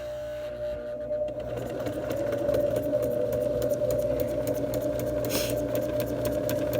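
A sewing machine runs steadily and loudly, stitching a straight line down to the end of a marked line with a constant mechanical hum and rapid needle rhythm, no talking.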